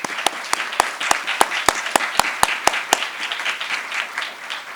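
A crowd at an economics graduate commencement applauds, with several loud, sharp claps standing out in a steady rhythm over the first three seconds before the clapping settles into a softer patter.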